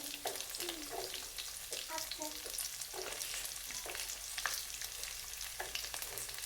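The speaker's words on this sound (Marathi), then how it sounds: "कांदा चांगला भाजून घ्यायचा आपल्याला" Onion frying together with green and red chili for a village-style veg biryani, a soft continuous sizzle with occasional clinks and scrapes of stirring, faint and close, no voice over it.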